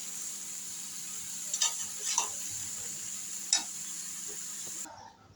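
Chopped snake gourd is stirred into a pan of frying spice paste, giving a steady soft sizzle with a few light scraping clicks of the spoon, fairly quiet and without speech.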